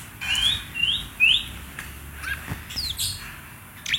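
Meong, a murai songbird wearing ring B16, sings a series of bright, rising whistled notes followed by quicker chirps, close and clear over a quiet background with no talking.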